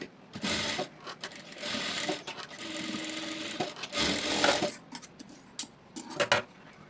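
A sewing machine stitches a blouse lining in a steady, close whir that runs for several seconds, broken by brief pauses and small clicks of fabric handling.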